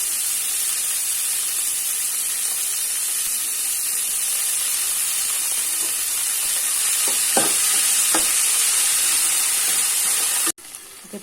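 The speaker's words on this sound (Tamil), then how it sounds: "நல்லா வதக்கி விட்டுக்கோங்க." Onions sauté with ginger garlic in a pan as a loud, steady hiss of frying, broken by a few faint clicks of stirring, before the sizzle suddenly cuts off near the end.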